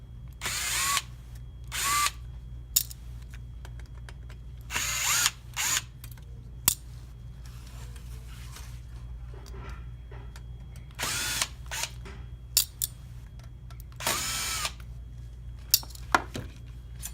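Power screwdriver whirring in short repeated bursts as it backs out screws from a plate on a Toyota Prius multifunction display and navigation unit, with small metallic clinks of parts and screws between runs against a steady low hum.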